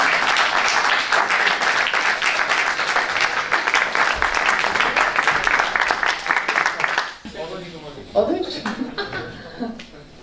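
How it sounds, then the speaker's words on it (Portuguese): Colleagues at a 2017 Remax staff meeting in Ponte de Sor give a burst of dense, sustained clapping for about seven seconds, then it drops off into scattered claps and chatter from the room. "palmas para os colegas"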